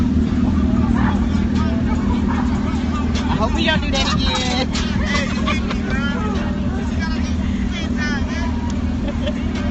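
Steady street traffic rumbles around a bike ride on a New Orleans street, a dense, continuous low roar of passing engines that stays loud throughout while people talk over it.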